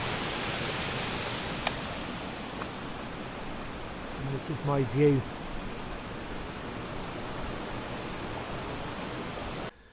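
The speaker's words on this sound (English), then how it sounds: "Passing over the bridge, all that water gushing down." Water gushing down beneath a river bridge on a rural road near Usk, a steady broad rushing roar that holds loud and even throughout, with someone speaking briefly in the middle.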